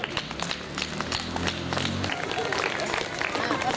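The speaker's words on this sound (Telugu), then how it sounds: "ఒకసారి అందరు గట్టిగా క్లాప్" A crowd at a school Christmas and annual day event claps loudly and continuously, the busy patter running under talk and amplified background sound.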